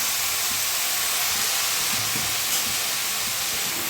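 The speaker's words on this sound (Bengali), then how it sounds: "এখন শাকটা দিয়ে দেবো রসুনের মধ্যে।" Red amaranth greens hit garlic in a hot pan with a loud, steady sizzling hiss that stays even throughout, close and unbroken, with no talking.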